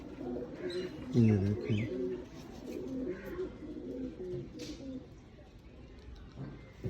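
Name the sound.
chapray pigeon chicks cooing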